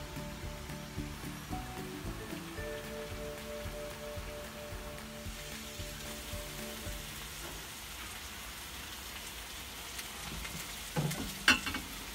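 Spice paste fries in hot cooking oil, a soft continuous sizzle with stirring clatter and a few brief tonal clinks, fairly quiet and close throughout.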